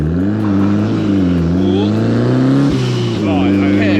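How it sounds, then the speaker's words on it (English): A 350bhp Cosworth-engined kit car, the Quantum Cosworth, pulls hard in first gear, its loud close engine note rising steadily with a brief stutter midway. "Right, first gear pull."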